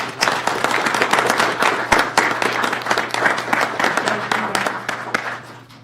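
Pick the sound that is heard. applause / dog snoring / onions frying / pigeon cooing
applause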